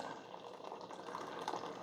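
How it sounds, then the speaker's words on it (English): Coffee pouring from the glass carafe of a Mr. Coffee All In One Occasions 10 Cup coffee maker, a soft steady trickle heard close up. "Let's see how the carafe pours. It pours pretty nice."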